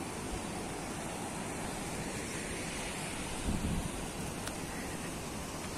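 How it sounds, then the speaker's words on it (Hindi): Rushing water at Bhatinda Falls, a steady broadband roar of falling water mixed with wind buffeting the microphone, loud and continuous with a brief swell midway and no talking. "इधर देख पूरा भटिंडा फॉल"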